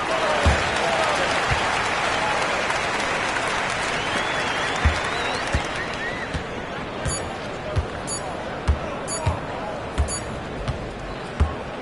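Arena crowd in the NBA 2K25 basketball video game, a broad roar and steady applause filling the space, with sneaker squeaks and periodic ball bounces punctuating the crowd noise throughout.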